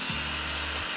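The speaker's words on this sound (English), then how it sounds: "Using a power drill to drill holes or for easier driving of screws" A power drill whirs in one short, steady burst, spinning up and cutting off within a second, close and fairly loud over faint background hiss.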